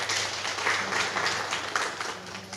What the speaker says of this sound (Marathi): त्यांच्यासाठी आपण जोरदार टाळ्या वाजवूया